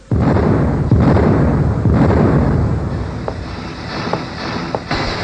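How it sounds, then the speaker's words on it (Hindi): A loud, deep explosive boom from a house blast rolls into a sustained rumbling roar that slowly fades, with a few faint clicks near the end. "ये धमाके की आवाज?"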